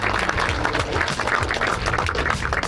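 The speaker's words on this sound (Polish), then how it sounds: "Brawa." At the award ceremony of a spinning fishing competition on the Brda river in Bydgoszcz, a crowd claps in a brief, continuous burst of applause over a low background hum.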